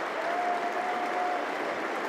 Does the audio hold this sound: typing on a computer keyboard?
no